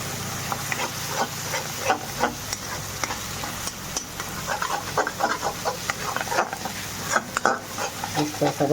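Masala spice mix roasting in a pan while being stirred, with a steady sizzle and repeated scraping strokes from the spoon throughout.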